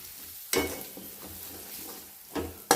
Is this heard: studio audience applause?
no